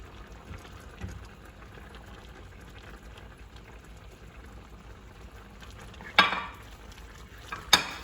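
Spaghetti is stirred into boiling panang curry sauce, a soft steady bubbling and sizzle with quiet stirring, ending in two brief louder clatters as the noodles go in and the utensil scrapes the pan.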